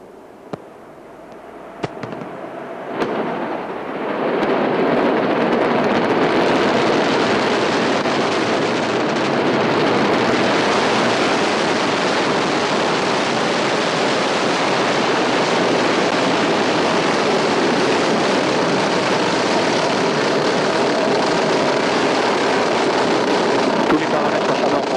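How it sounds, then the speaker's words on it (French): An Ariane 5 rocket lifts off the launch pad with a sustained, broadband roar that swells within the first few seconds and then holds loud and steady, crackling, like distant rushing surf. "You saw Ariane come roaring off the pad, a bolt of light still rising into the clouds"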